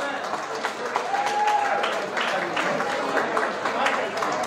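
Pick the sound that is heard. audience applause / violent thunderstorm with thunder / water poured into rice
audience applause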